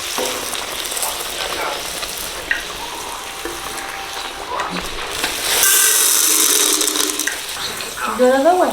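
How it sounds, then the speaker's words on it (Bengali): Corn kernels for popcorn frying in a pan, a loud steady sizzle and hiss with stirring scrapes, swelling into a brighter, harsher burst partway through, with brief voice-like sounds near the end. "এই পপকর্নটা আজকে করে নেবো কারণ পপকর্নটা ড্যাম হয়ে গেলে না আর কিন্তু পপ হবে না ফাটবে না"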